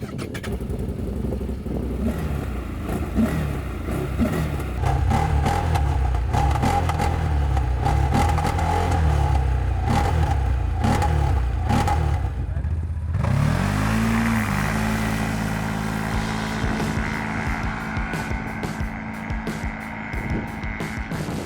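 CF-Moto Cforce 1000 Mud ATV riding on asphalt, its engine droning steadily and close with changing revs, the pitch climbing in a clear rev-up partway through as the quad pulls away.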